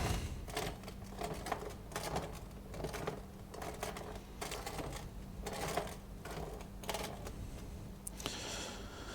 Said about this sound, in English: if I roll that bolt across the bench, you can probably see the wobble in it